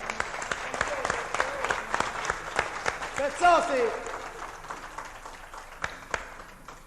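An audience applauds the Sicilian press at a live music event, steady clapping spread across the room at moderate distance, with a brief voice and some whistled or sung tones rising through the middle.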